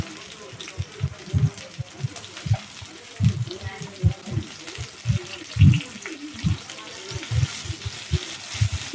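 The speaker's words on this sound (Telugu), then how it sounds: "ఆనియన్స్ కూడా యాడ్ చేసుకొని బాగా ఫ్రై చేసుకోవాలి" Onions and carrots frying in a pan for pasta: a soft, steady sizzle with repeated clattering stirs and scrapes throughout, fairly close and moderately quiet.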